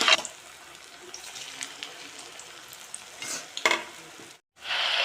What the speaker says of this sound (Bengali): একটা একটা করে ফুলকপিগুলো ওই তেলের মধ্যে দিয়ে একটু হালকা হালকা করে ভাজা ভাজা করে দিতে হবে